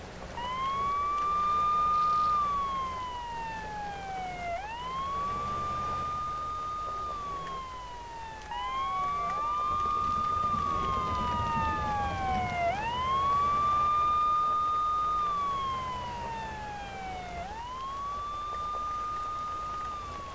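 A wailing police siren on a UAZ-469 in the video game SpinTires sweeps up and down in repeated cycles, loud and continuous over a low engine rumble.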